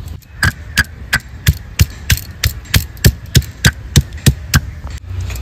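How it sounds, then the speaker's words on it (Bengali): Garlic cloves pounded with a pestle for a Bengali country-chicken curry, a steady run of about fifteen sharp, loud thuds at a regular beat, close up and alone. "এই যে কিছু রসুন আমি নিয়েছি, এগুলো থেতো করে নেব, বাটবো না কিন্তু"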